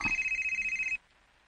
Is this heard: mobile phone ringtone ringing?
yes